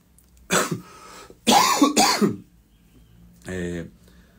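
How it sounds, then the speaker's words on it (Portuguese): Several harsh coughs close to the mic, two or three quick bursts followed by a pause and one more, throaty cough. "Tem um pouquinho de tosse aqui ainda"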